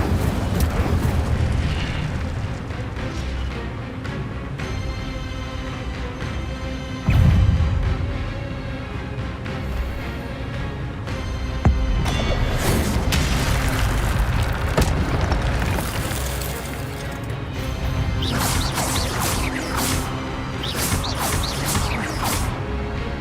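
Fiery Incendio spell blasts in the Hogwarts Legacy video game: repeated booming bursts and crackling impacts over a dense, continuous battle din, with sharper blasts near seven and twelve seconds and no talking.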